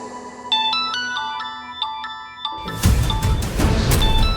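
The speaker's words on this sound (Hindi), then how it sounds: "लगता है बहुत दिल से याद किया तूने अपनी माँ को कि मम्मा का फोन आ गया" A mobile phone ringtone plays a bright repeating melodic chime, several evenly spaced tones, before louder crashing music and sound effects take over from a television drama scene.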